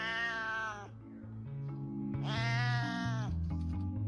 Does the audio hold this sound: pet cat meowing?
yes